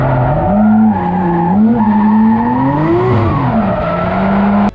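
A drifting car screeches loudly with tire squeal right after a clutch kick. A continuous, wavering howl from the rubber rises and falls in pitch under a droning engine.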